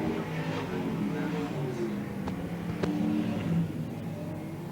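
BriSCA Formula 1 stock car engines roar steadily on the Hednesford track in 1992, a sustained loud drone that swells slightly as cars come down the straight.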